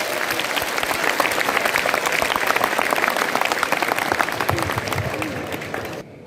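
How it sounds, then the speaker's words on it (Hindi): A school seminar audience applauds loudly and steadily to welcome a speaker, a dense wash of many hands clapping that holds for about six seconds before stopping abruptly. "एक बार जोरदार तालियों से इनका स्वागत करें।"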